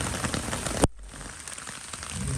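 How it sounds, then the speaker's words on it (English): Steady rain patters on mesh gutter guards, including a Valor micro mesh guard, with a dense, close hiss that briefly cuts out before resuming. "We've got a pretty good amount of rain"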